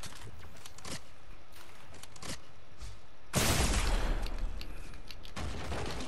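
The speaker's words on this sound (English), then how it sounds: "I just got shot through the window." Gunfire in a Fortnite match, a few sharp scattered shots followed by a sudden loud, noisy burst that lingers, heard over steady background game sound.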